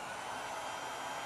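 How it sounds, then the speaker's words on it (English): A hair dryer runs steadily for the whole moment after being switched on, its motor drawing current through a Fieldpiece SC56 swivel clamp meter, with a constant mid-to-high airy whoosh and no talking. "once I turn the hair dryer back on"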